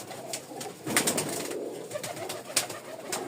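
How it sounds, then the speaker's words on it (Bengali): Rajshahi Giribaz pigeons, a pair of white-beaked black-eyed birds, cooing softly amid a steady background hiss, with a few sharper calls breaking through; no talking. "সাদা ঠোঁটের কালো চোখের এক জোড়া রাজশাহী গিরিবাজ"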